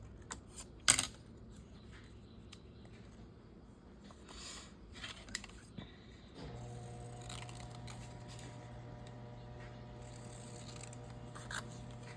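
Scissors cut a paper letter E close up, with quiet snips and rustling paper, one sharp click early on, and a steady hum joining partway through.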